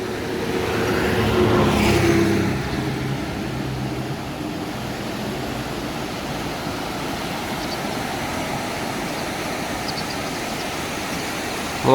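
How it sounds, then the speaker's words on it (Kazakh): A mountain river in Georgia flows below a mountain road, a steady broadband rush of water heard from a distance, swelling louder for the first couple of seconds as if something passes, then settling into an even roar. "Таулы өзен."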